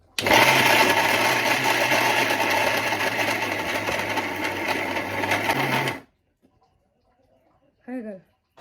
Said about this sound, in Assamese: এয়া মই নহৰু আদা মই ফটাফট পিচি ল'ম